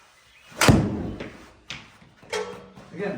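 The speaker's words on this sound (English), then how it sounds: "There you go, about 197 on a 7-iron, hitting right off the turf" A 7-iron strikes a golf ball off a turf hitting mat with one sharp, loud smack, followed by a few softer thuds spaced out over the next few seconds.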